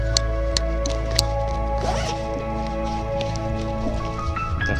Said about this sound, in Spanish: La cremallera, lleva uno interior también aquí.